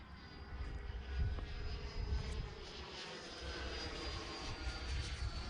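An XFly Sirius radio-control jet plane on its maiden flight roars past, a sustained engine whine swelling and fading at moderate distance with no talk.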